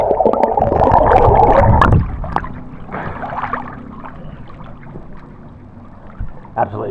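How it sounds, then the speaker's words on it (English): Pool water splashes and churns close by as someone swims, a loud burst of sloshing for about two seconds, then softer gurgles and drips with occasional small splashes. "Let's give it a bit of a swim."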